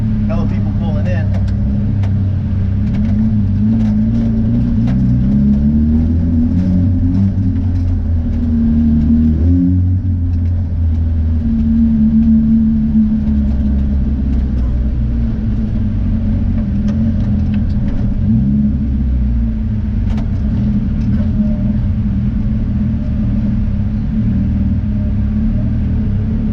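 Engines rumble and rev at low pitch as cars pull into a car meet in an echoing parking garage, the noise steady and continuous beneath people talking.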